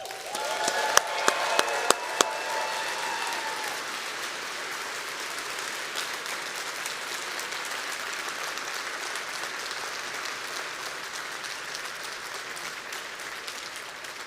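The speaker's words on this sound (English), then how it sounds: "So can we get one big round of applause with as much energy as you actually have?" A conference audience breaks into a big round of applause, a dense, steady wash of many hands clapping that carries on for over ten seconds, with a few sharp individual claps standing out near the start.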